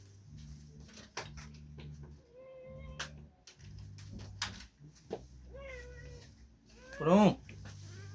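A pet cat meows at a door near the end, one clear rising cry, while a person speaks in short phrases over soft background hum.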